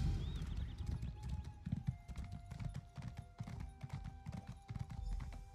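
Horse hooves clip-clop in a steady galloping rhythm while riding in Elder Scrolls Online, close and continuous throughout, with a brief whinny-like sound early on, faint steady game music underneath and no talk.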